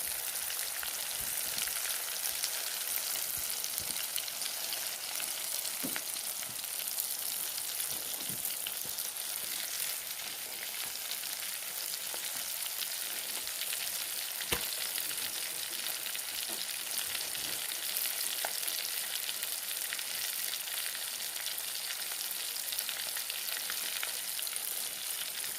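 Mangada fish frying in oil in a pan, a steady dense sizzle and crackle with occasional sharper pops, continuous and fairly close throughout.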